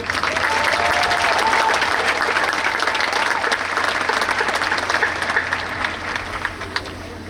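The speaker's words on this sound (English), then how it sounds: "Please give them a round of applause." Sustained applause from a large audience at a high school graduation ceremony, dense and steady, slowly thinning toward the end.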